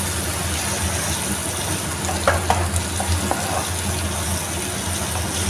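Fish manchurian sizzles steadily in hot oil in a pan while being stirred, a constant loud frying hiss with a few scraping clinks of the spoon midway.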